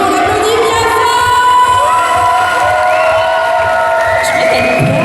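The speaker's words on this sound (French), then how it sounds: "on applaudit bien fort" Festival audience at a cosplay contest results ceremony cheering and whooping loudly with some applause, a dense sustained crowd roar with shouts rising above it throughout.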